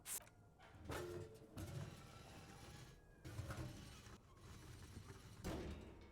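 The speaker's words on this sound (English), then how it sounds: "the 2 metal panels slide open with a creak" Two jammed, rusty metal door panels on rails slide open in the video game Disco Elysium, giving faint grinding, creaking scrapes with several sharp metallic knocks along the way.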